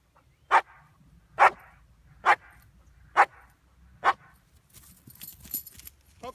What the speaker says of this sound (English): she did with a little bit of throat clearing, a very good bark